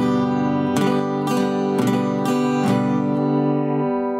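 Acoustic guitar chords strummed with a pick gripped too tightly, giving four harsh, scratchy strokes over a sustained ringing chord, close and loud with no speech.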